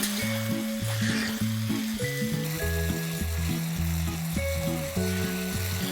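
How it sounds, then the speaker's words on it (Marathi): Small prawns frying in hot oil, a loud, continuous sizzle close by, heard under a repeating melodic tune of background music, with no voices. "आता त्यात आपण प्रॉन्स फ्राय करून घेऊया।"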